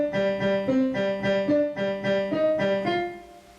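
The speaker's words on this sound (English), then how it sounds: "take your foot off the sustain pedal, and make your notes staccato." Piano played staccato without sustain pedal, a short run of about eight crisp, quickly damped notes in an even rhythm, close and alone.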